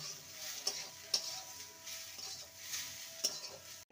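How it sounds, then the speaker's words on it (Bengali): A vegetarian ridge gourd and moong dal dish with freshly grated coconut is stirred in a pan, producing faint scraping and light spoon ticks over a quiet, low sizzle. "ভালো করে নেড়ে নেব।"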